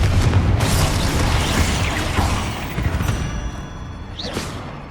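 A Confringo explosive spell blast in Hogwarts Legacy on PS5, a loud booming impact followed by rumbling debris and whooshing game effects, with a rising magical tone near the end.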